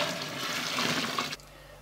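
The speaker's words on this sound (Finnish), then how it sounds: "Kiehuvaa vettä." Boiling water pours in a steady gush into a container while a sweet fizzy drink is being prepared, running close and continuous before cutting off abruptly near the end.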